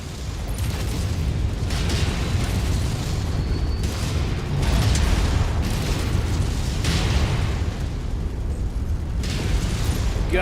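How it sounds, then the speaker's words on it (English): Missile explosions and battle noise in the mech combat video game MechWarrior 5, a continuous heavy rumble with repeated booming bursts and mechanical clatter, loud and dense throughout. "Incoming missile."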